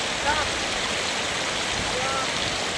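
Steady rush of flowing water from a release channel at a riverside camp in Norzagaray, Bulacan, a constant broadband wash near and even throughout, with faint voices under it.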